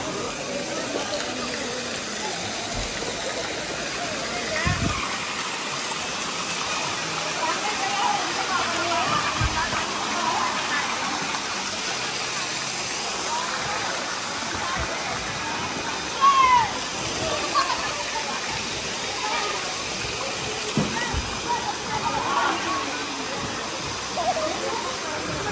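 Steady, broad rushing of water pouring down Balite Falls fills the whole clip, close and continuous, with people talking over it.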